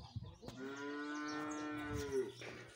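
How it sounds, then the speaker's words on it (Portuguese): A young calf moos once in a long, steady, harmonic call lasting about two seconds, close and clear over quiet farm surroundings, with no talking. "Olha o bezerro aqui, ó."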